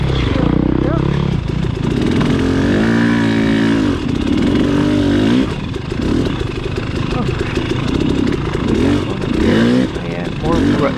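A dirt bike engine at a hare scramble race revs and rises in pitch repeatedly, loud and close, with a voice talking over it.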